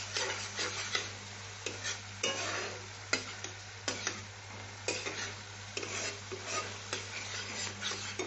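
Coriander and cumin powder sautéed for a vegetarian pointed gourd dorma: a steady oil sizzle with repeated scraping spoon strokes against the pan at an irregular rhythm, close and moderately loud, over a low constant hum, with no voices.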